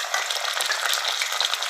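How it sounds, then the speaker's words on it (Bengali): Chopped onions fry in hot oil with green chili paste in a pan, a steady, close hiss and crackle of sizzling with no talk. "পেঁয়াজটা লাল করে ভেজে নিব।"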